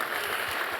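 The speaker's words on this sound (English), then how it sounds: "round of applause" Audience applause at a live cycling talk event, a brief burst of dense clapping filling the room without a break.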